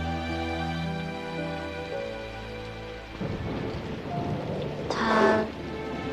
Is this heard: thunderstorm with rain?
yes